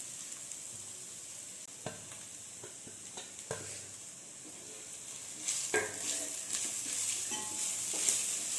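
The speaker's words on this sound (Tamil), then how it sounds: "ஆனியன் நல்லா ஃப்ரை ஆனதுக்கப்புறம் நம்ம துருவி வச்சுருக்க மேங்கோ போட்டுக்கலாம்" Onions fry in a pan for raw mango rice, a soft, continuous sizzle broken by occasional stirring clacks and scrapes that grow busier and a little louder toward the end.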